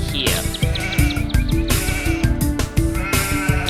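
Age of Empires II sheep bleat repeatedly over the game's busy soundtrack and battle ambience, several loud, rhythmic baa calls in quick succession near a riverside base, with a possible horse whinny mixed in.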